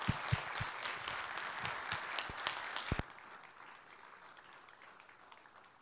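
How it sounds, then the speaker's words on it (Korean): Applause at a church forum seminar welcoming a pastor to the stage, moderately sized crowd clapping with a few sharp near claps standing out, ending abruptly about halfway and leaving quiet room tone. "박수로 환영하겠습니다."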